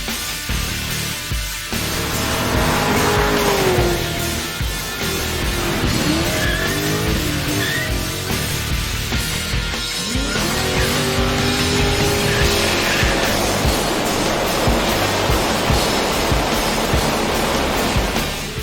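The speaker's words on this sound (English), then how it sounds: "Our cover car from issue 128, Warren Osler's Orange VK 355 Fun, was out tearing up the track." An orange Holden Commodore VK 355 race car tears around the track at a cruising event. Its loud, close engine rises and falls through revving passes, with tyre squeal and a steady roar throughout and no voices.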